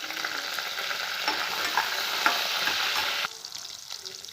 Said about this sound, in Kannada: ಇಲ್ಲಿ ನಾನು ಮೆಣಸಿನ್ಕಾಯಿ ಹಾಕ್ತಾ ಇದ್ದೀನಿ. ಕರಿಬೇವು ಕೂಡ ಹಾಕ್ತಾ ಇದ್ದೀನಿ.